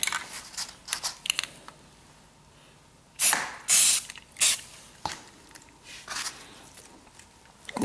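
Short bursts of satin-finish spray paint applied lightly over a gun's dark pattern, a few hissing passes of a second or less each, close and fairly loud, separated by quiet gaps.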